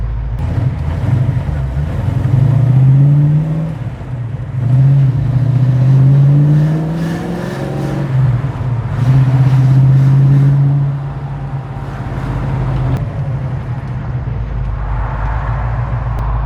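A car engine recently converted to FiTech fuel injection runs on a test drive, loud and close from inside, rising and falling through several revving accelerations and gear changes, with wind and road rumble underneath and occasional faint sounds from the driver.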